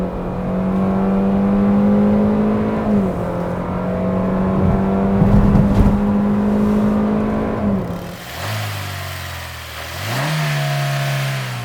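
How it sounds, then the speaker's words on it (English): A 2020 Hyundai Venue subcompact SUV with a 1.6-litre gasoline engine accelerating in sport mode, engine tone climbing and dropping at gear changes, heard steadily from inside the cabin without talk. "Let's put the car into sports and drive."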